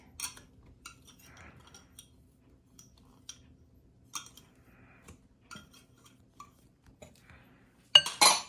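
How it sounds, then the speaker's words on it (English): Butter being cut into dry ingredients for mocha chip cookie scones, with light utensil clinks and scrapes against a bowl, sparse and quiet, ending in a louder burst of scraping. "And you just cut it into it."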